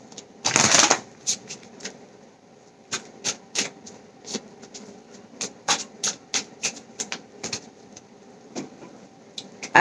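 Oracle and gilded tarot cards are shuffled by hand, a loud riffling burst at the start followed by a string of brisk, irregular card flicks and taps, close and dry with no voices.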